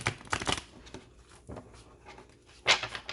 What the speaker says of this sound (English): These cards are so, like, good, but really hard to shuffle.